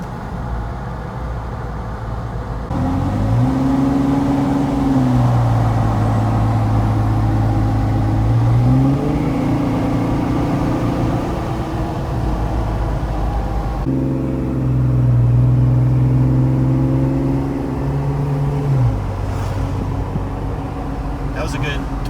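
Jeep Wrangler 3.6 V6 with an aFe aftermarket exhaust revving twice to about 2,500 RPM, each rise holding a steady, smooth tone before settling back, loud and close over a constant idle, with people talking over it.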